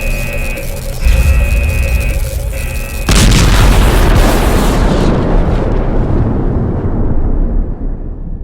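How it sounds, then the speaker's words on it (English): An overcharged energy core explodes in the video game Last Days of Lazarus. A steady mechanical hum gives way to a sudden loud boom, and a long rumbling roar follows and slowly fades. "This thing is going to explode."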